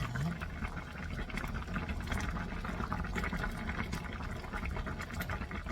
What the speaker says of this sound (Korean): 보글보글보글 끓고 있습니다.